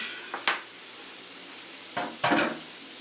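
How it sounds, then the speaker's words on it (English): Shrimp frying in a pan, with a steady faint sizzle underneath and a few sharp bursts of clatter and stirring, loudest near the end. "I hear my shrimp sizzling"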